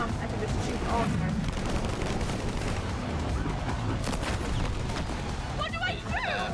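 Gunfire in the video game Split Fiction, dense rapid shots at floating objects, loud and continuous with rumbling impacts, mixed with game sounds and a voice talking over it.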